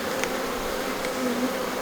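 Honeybees buzzing around a hive, a steady close hum of many insects with a few brief higher whines from individual bees passing near.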